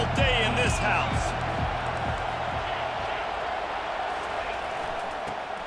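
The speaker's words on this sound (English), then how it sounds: "This crowd trying to show them what it's going to be like all day in this house." A home football crowd at a Washington versus UGA college game roars steadily across the stadium, a broad continuous wash of noise, with a commentator's voice heard briefly at the start.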